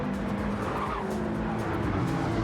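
Porsche GT4 race car in a racing video game, a continuous engine roar with tyres squealing and skidding, dense and loud throughout with no voice.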